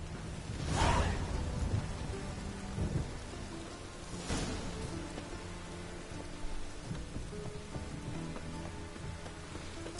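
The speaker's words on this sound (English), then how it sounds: "A storm, damn it." Steady rain and a storm in The Witcher 3 game world, with two loud thunder cracks early and midway, then a continuous wash of rainfall and low rumble.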